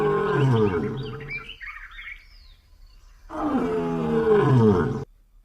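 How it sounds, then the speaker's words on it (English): A lion roars in two long, deep, loud bursts separated by a quieter gap with faint bird chirps, close and without talk. "L for lion."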